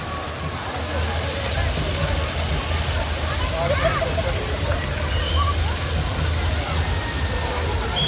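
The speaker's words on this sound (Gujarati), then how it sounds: "હાથીની સૂંઢમાંથી પાણી નીકળતું મેં આ પહેલાં એક જ જગ્યાએ જોયું છે" Steady splashing of water pouring continuously from an elephant-trunk fountain into a pool at a water park, with a crowd murmuring in the background and faint voices.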